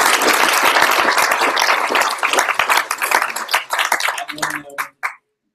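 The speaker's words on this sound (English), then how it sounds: "Let's give her a round of applause." An audience gives a sustained round of dense, loud applause that thins into scattered claps and stops abruptly at the end.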